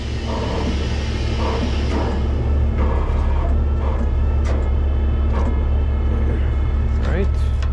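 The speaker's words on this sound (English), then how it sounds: "So I gotta go over some railroad tracks" A 1965 Autocar truck rolls with a loud, constant engine rumble while crossing railroad tracks, with a few scattered knocks and rattles over the drone and a voice speaking throughout.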